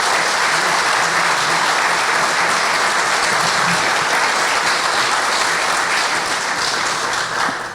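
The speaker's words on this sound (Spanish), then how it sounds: "yo de verdad quisiera pedirles a ustedes un fuerte aplauso para los" Sustained audience applause at a book presentation, a dense, steady wash of clapping that holds at full strength for the whole span, with no speech over it.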